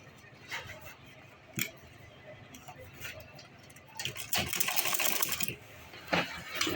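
Sewing machine top stitching a large travel bag, a quiet rattling run of stitches that swells into a louder, faster buzzing burst near the end, heard close up.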